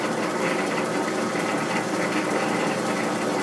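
Lathe in a machine shop running at speed after its chuck is tightened, a steady dense whirring hum that stays constant and close throughout.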